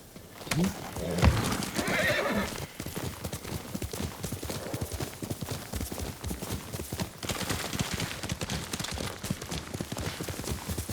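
In the video game Ghost of Tsushima, a horse whinnies loudly near the start, then hooves clip-clop steadily over a busy background of ambient game sounds.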